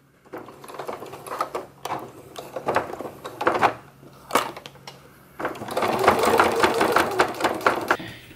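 Sewing machine stitching close to the edge of a vinyl window on a fabric zipper pouch with a universal needle at 3.5 mm stitch length, heard as several short bursts of rapid stitching followed by a longer continuous run, close and fairly loud.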